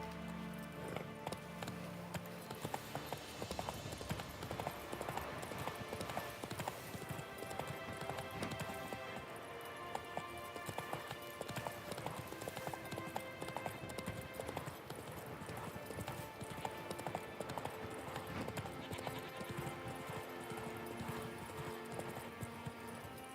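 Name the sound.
horse Roach galloping in The Witcher 3 video game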